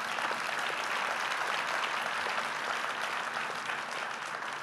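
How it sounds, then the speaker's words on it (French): A conference audience at a business association event in Savoie breaks into steady, sustained applause, with dense overlapping hand claps filling the room and no talk on top. "Il faut l'applaudir."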